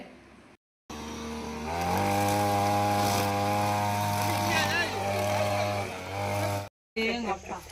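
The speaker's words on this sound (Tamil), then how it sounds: "இந்த மாதிரி வந்து புல் வெட்டுற மிஷினை வச்சு வெட்டி விட்டுறலாம்" A grass-cutting machine works on a farm, its engine droning steadily and loudly, close by and holding a strong pitch that rises slightly before settling, with brief breaks near the start and end.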